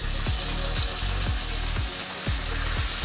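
Pomfret fish frying in plenty of oil, a dense continuous sizzle and crackle with a steady bright hiss, punctuated by regular low thumping pulses about twice a second, close and loud with no voices.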